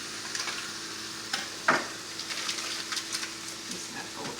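Kale and spinach with a small pat of butter sizzle steadily in a pan, a soft continuous frying hiss broken by scattered stirring scrapes and one sharper clatter, no voices.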